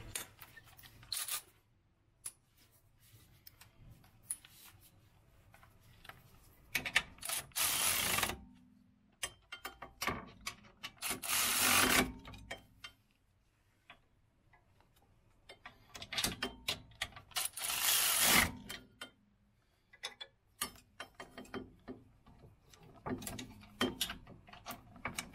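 New wheel bolts on a Peugeot 107 are tightened with a ratchet, heard as bursts of close, rapid clicking separated by quiet pauses and small handling noises.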